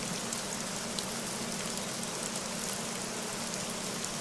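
Steady rain falls in the Hirschfelden hunting game Hunter Call of the Wild, a continuous even hiss with no voices and no let-up through the whole stretch.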